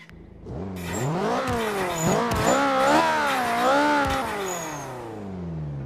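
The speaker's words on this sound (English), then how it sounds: "Let's see what this car sounds like." A Ferrari Challenge Stradale with a twin-turbo engine in Forza Motorsport 5 revs hard, its loud engine note climbing and falling through several swells and gear changes before settling to a lower drone.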